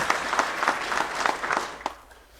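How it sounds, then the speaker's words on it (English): Applause from an audience at a corporate conclave, a steady dense clatter of clapping that runs for about two seconds and then cuts off abruptly, leaving a quiet room. "A huge round of applause for Shri Ajay Mittal sir"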